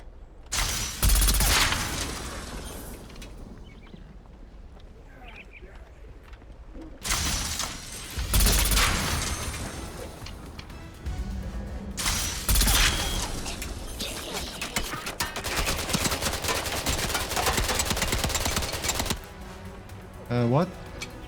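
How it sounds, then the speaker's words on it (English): Big guns firing in Atomfall, bursts of loud rapid gunfire with clattering mechanical sounds between quieter gaps, mixed with occasional talking. "Let's test out our big guns as well."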